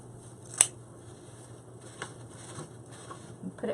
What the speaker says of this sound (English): Then I can just take my scissors and cut it off.